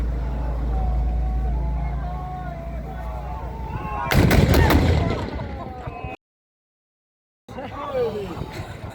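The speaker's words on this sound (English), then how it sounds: "441 Battery provided supporting fire" Artillery fire from 441 Battery booms at a river crossing reenactment for the Market Garden 80th commemoration, one heavy blast over a steady engine-like rumble and crowd noise, then a brief cut before the background resumes.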